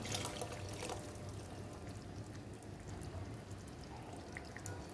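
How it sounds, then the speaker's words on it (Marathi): Water pours and trickles steadily into a pot of dal, a soft continuous splash with faint drips, heard close and quiet with no talking. "त्यामध्ये पाणी घालून घ्यायचं"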